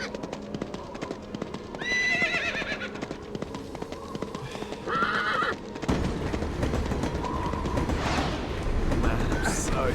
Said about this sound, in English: the horse doesn't control very well either. Also, it does not stop neighing.